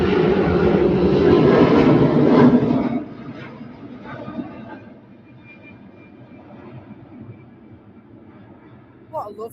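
Airliner engines roaring loudly during take-off at Manchester Airport, a powerful close rumble that fades to a distant drone, with people talking over it.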